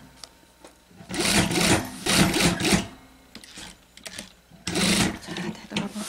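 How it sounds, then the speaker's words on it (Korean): A sewing machine stitches fabric for a round-neckline oversized top, running in several short bursts of rapid mechanical whirring and clatter separated by brief pauses, close and loud. "여기서부터 박으세요. 시점 밑에까지만 1cm."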